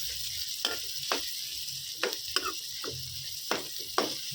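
Tomatoes fry in a pan for a mutton liver masala with a constant soft sizzle, broken by several short scraping stirs and clinks against the pan at irregular intervals.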